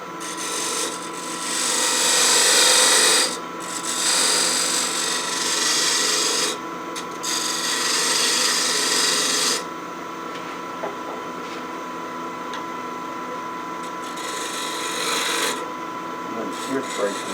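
Wood lathe turning a jarrah bowl, a tool cutting a bead in long rasping scrapes that swell and fade in several passes, fairly close and steady.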